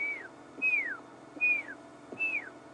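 Scimitarbill, a black-billed woodhoopoe relative, gives a piercing whistling call: four clear descending whistles repeated at steady intervals, moderately near over a quiet outdoor background with faint low knocks.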